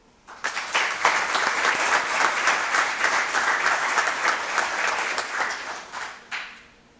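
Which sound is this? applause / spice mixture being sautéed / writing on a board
applause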